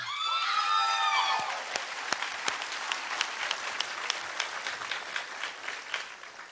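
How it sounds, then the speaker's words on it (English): An audience at a fire rescue graduation ceremony claps for a graduate after a brief whistle-like tone; the clapping starts full, then thins into scattered, fading claps. "Let everybody clap for you."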